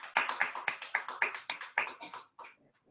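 A congregation at a Sunday church service clapping hands in welcome, a brisk run of about a dozen sharp, fairly close claps that slows and fades out near the end.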